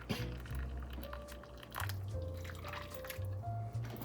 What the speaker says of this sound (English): I'm going to put 3/4 of a cup of boiling water into my gelatin